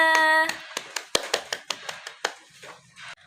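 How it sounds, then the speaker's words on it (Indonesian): A quick burst of hand claps in a classroom teaching session, about a dozen sharp, close claps in an irregular rhythm, with a brief tonal sound at the start. "Oke, tepuk tangannya."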